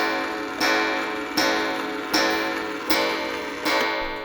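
An 1860s Seth Thomas OG column clock ticks loudly and close by, six sharp, evenly spaced beats at a slow, steady pace with nothing else heard.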